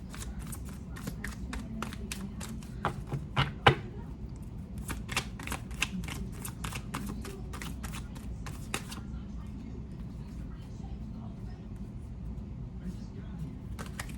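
Tarot cards shuffled by hand in rapid bursts of sharp riffling flicks, a pause mid-way and then more shuffling, under a low background hum with some talk.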